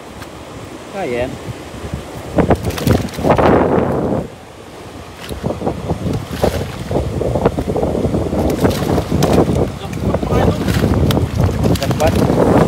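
Strong wind buffets the microphone at sea on a fishing boat, roaring gusts mixed with boat and water noise while people talk over it.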